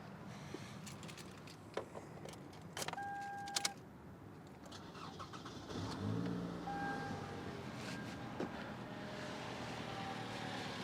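A car engine cranks and catches, then runs and revs steadily, with clicks and key-like clatter beforehand and a few short beeps, moderately close.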